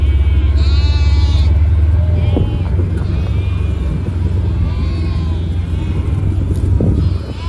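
Sheep bleat intermittently over a steady low rumble of wind or a distant engine, with a few calls sounding fairly close.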